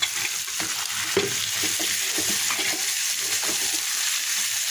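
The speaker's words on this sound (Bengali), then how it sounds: "ম্যাশ করা কচুগুলা দিয়ে দিলাম এখন ভালোভাবে নেড়ে চেড়ে মিশিয়ে দিতে হবে" Mashed boiled taro stirred in a hot pan, a steady bright sizzle of frying running throughout with soft scraping and knocking of the spoon against the pan in irregular strokes.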